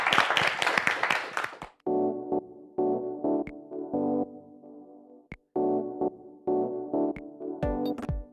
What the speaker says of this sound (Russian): Традиционно мы артисту аплодисменты.